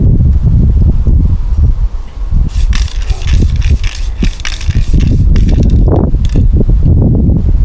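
Loud, gusty wind buffets and roars close up, with rustling and rumbling throughout and no voices.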